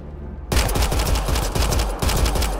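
Rapid automatic gunfire from the Mass Effect Andromeda video game erupts abruptly and loudly, a dense rhythmic burst of shots continuing for about two seconds.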